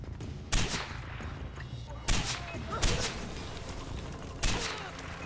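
Gunfire in the video game Far Cry 4, with four sharp shots spaced a second or more apart over a steady ambient bed of game sound.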